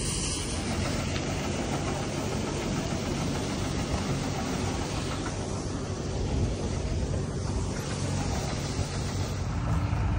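A tractor engine runs on a Punjabi farm during harvest, a loud, close, continuous low mechanical rumble that holds steady throughout with no talking.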